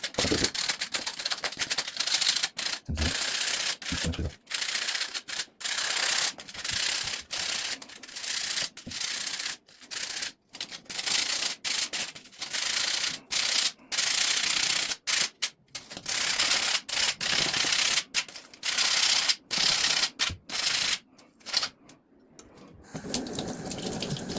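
Steady, harsh scraping rasps of sandpaper working a bike brake rotor, continuous and close with brief pauses between strokes.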